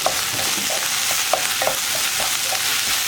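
Egg roast masala with a spoonful of tomato sauce is stirred in a pan over a low flame, a steady soft sizzle broken by repeated light scrapes of the spoon, with no talking.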